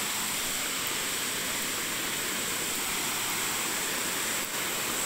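Water pours down in a constant, broadband rush, steady and unbroken throughout, like a cascade heard from nearby.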